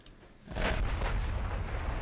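Heavy naval guns of a battlecruiser firing at destroyers in the naval combat game Dreadnought, a deep booming barrage that starts about halfway through and rolls on loudly with sustained low rumble.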